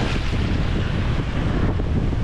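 Wind and surf at a beach, loud steady wind buffeting the microphone over a broad wash of waves, with no one talking.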